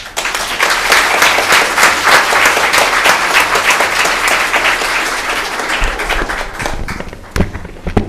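An audience claps steadily at the close of a family and inheritance law lecture, dense applause running loud and continuous before thinning out near the end.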